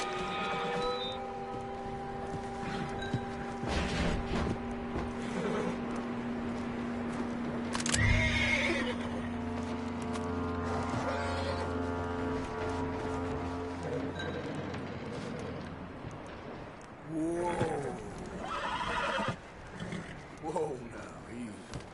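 A horse in a video game whinnies loudly partway through, with snorts and shorter neighs later, over a background of soft music and occasional talking.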